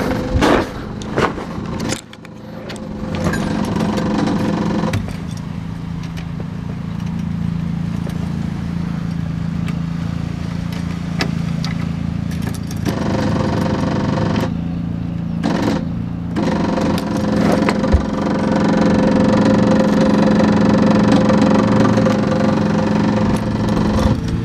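A 1969 VW Bug engine with a fuel system problem cranks and tries to turn over, a steady mechanical churning held at close range for about twenty-five seconds with brief dips and no voices.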